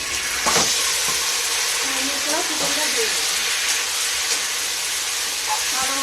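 Chicken being fried over browned chopped onions in a pan, giving a steady broadband sizzle throughout with occasional stirring scrapes, close and moderately loud.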